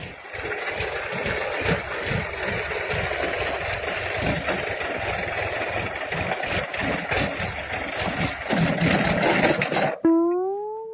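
A tractor engine runs steadily with a low, chugging rumble close by, then cuts off abruptly near the end.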